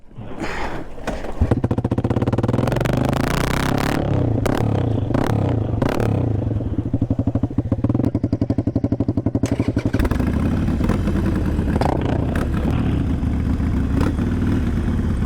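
A motorcycle fitted with a cheap $60 aftermarket exhaust bought on Amazon starts up and runs loud and close, its rough, throbbing idle revving and clattering steadily, then settling lower near the end, with no talking.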